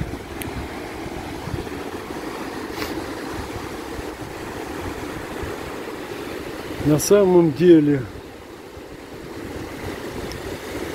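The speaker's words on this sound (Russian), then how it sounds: "прибой шумит так, что я своего голоса почти не слышу." Surf rolling onto an autumn beach in the evening, a steady broadband wash running throughout, with someone speaking briefly over it near the end before the roar settles again.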